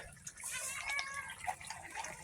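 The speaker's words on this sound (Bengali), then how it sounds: "বিড়াল" A cat gives a faint, short meow in a home kitchen, half masked by running water and low cooking noise while fish curry simmers.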